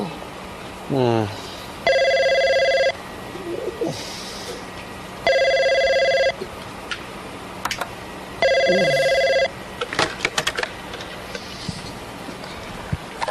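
A telephone rings in three separate bursts of electronic trilling with pauses in between, while a person speaks briefly between the rings.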